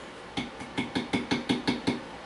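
A tobacco pipe is rapped repeatedly on a homemade cork ashtray knocker of corks glued into a base, giving eight dull, evenly spaced close knocks over a quiet background.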